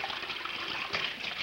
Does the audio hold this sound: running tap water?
yes